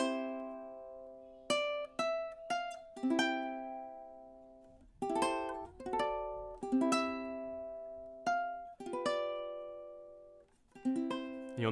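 A ukulele plays the final four bars of The Star Spangled Banner, measure 22 to the end, in time: bright plucked chords and single notes ringing and decaying, with a short gap midway, close and clear with no talking.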